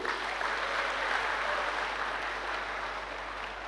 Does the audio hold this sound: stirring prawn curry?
no